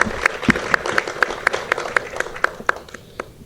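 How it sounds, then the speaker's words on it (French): A small group at a reception for new scholarship students claps in a clear, rhythmic pattern, individual claps sharp and evenly spaced, with a loose wash of scattered applause beneath that tapers off at the end. "on peut vous applaudir. Bravo."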